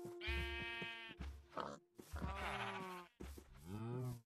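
Sheep bleat in a video game, several drawn-out, wavering calls one after another with short pauses between them, loud and close with no talk over them.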